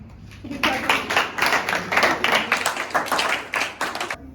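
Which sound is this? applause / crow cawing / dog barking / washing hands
applause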